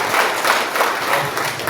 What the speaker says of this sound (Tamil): அதுக்காக அவருக்கு ஒரு கைத்தட்டல் கொடுக்கலாம்.